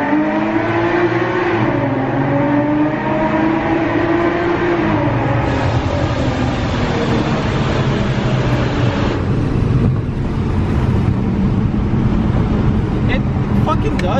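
A supercharged V6 car is driven at full throttle, its engine note rising steadily in pitch as it accelerates hard, loud and close, with a brief drop and rise in pitch partway through.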